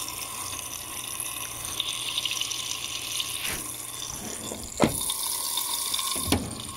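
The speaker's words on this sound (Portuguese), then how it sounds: "É que a pressão da água aqui é bem forte." An Electrolux LPR14 top-load washing machine fills with water under strong pressure during a sheets cycle, a steady loud rushing gush like an open tap, broken by two brief knocks near the end, with no voices.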